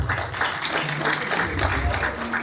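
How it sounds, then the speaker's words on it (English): An audience applauds at a gala event. The clapping is steady and moderately loud and runs continuously for a couple of seconds, with faint voices mixed in. "Give her a round of applause."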